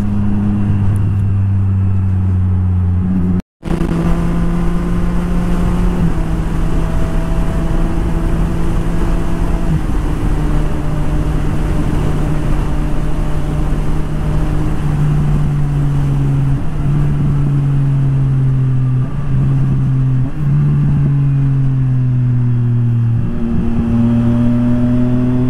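Triumph Street Triple 765RS motorcycle riding slowly through heavy traffic, its engine a loud, close, continuous drone whose pitch rises and falls with throttle changes over a long stretch, with a single sharp dropout early on.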